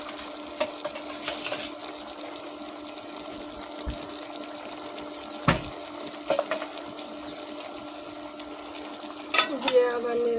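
A spoon stirs cabbage curry with hilsa fish heads in a pan, giving a few scraping knocks over a steady, soft sizzle.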